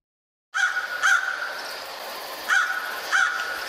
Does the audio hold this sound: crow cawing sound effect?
yes